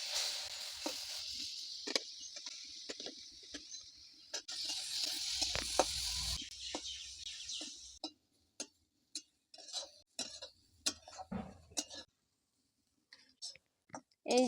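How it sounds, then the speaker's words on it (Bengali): Carrots fry in ghee with a soft hiss for the first several seconds, then a spoon stirs and scrapes them in the pan with irregular taps while a voice speaks quietly between the strokes. "গাজরগুলো এখন ঘিয়ের মধ্যে ভেজে নিব ভালো করে।"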